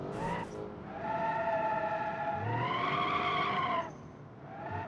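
A V16 sports car in the BeamNG driving game revs hard while accelerating out in sports mode, its engine note climbing in steady harmonic sweeps with tire squeal, loud and close, then easing off near the end.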